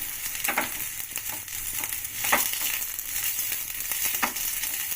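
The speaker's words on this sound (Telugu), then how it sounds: "ఇలా మంచిగా ఫ్రై చేసుకోవాలి" Food frying in a pan for an old-style billala pulusu, browned until reddish, gives a steady close sizzle broken by periodic bursts of stirring, with no talking.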